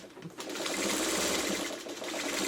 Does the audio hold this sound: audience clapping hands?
no